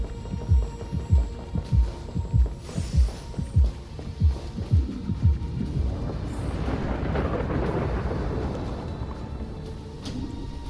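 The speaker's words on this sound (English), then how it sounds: "What's this heartbeat?" A loud, steady heartbeat thumps in a video game, its regular low double beats pulsing for several seconds before a broad rumbling storm-like swell takes over, with no talking.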